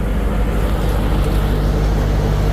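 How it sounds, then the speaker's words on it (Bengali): A passenger launch's engine runs as the boat arrives at a river ghat, a loud, continuous low rumble and drone heard from on board, steady throughout with no speech. "তো লঞ্চ চলে আসলো উজানচর লঞ্চ ঘাটে"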